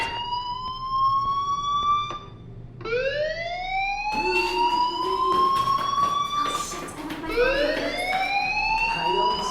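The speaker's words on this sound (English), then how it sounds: "Hey, do you hear that fire alarm? That means you should be outside." A school fire alarm in the video game Life is Strange wails with loud rising siren sweeps that repeat continuously and fill the whole stretch, with no talking.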